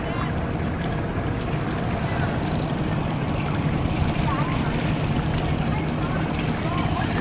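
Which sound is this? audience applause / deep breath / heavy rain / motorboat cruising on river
motorboat cruising on river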